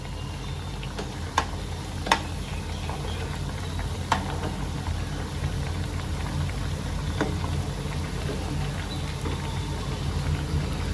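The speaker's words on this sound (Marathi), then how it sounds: "ह्याला तेलामध्ये चांगलं फ्राय होऊन देते" Barnyard millet tikki fry gently in oil over medium-low heat, a soft continuous bubbling sizzle with a few sharp crackles and pops, close and fairly quiet with no talk.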